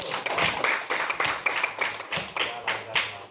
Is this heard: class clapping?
yes